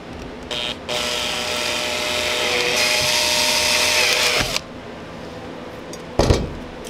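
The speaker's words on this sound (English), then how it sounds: "So we just wanna drill through the plastic" A power drill bores through plastic plate for a steel tread-plate back armor build, giving a loud, steady whirring whine for about three and a half seconds before cutting off abruptly, with no voices.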